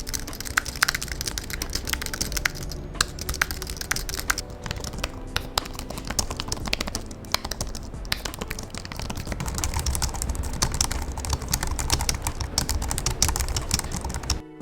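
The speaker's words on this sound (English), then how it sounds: "Here's a typing test for you to listen to it for yourself" Quick, light typing on a Logitech Keys-To-Go 2 compact scissor-switch keyboard clatters continuously, soft and muted keystrokes in a fast, uneven rhythm with no talking.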